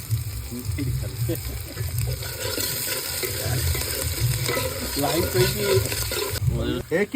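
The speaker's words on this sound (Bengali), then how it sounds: "রসুন কুচি কুচি ঝাল করে নেড়ে নি এই কাঁচা লঙ্কা চলে গেল" Chopped garlic and green chili stir-frying in a pan for pasta, loud continuous sizzle with repeated stirring scrapes, close and busy throughout, no voices.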